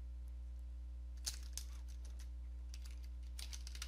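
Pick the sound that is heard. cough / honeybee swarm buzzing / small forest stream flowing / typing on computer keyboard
typing on computer keyboard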